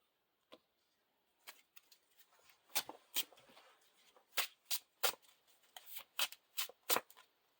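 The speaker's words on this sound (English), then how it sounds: "We're going to be shuffling into the encounter deck." A deck of cards for the Lord of the Rings card game is shuffled by hand, quiet irregular bursts of riffling and snapping cards, close up with no talking.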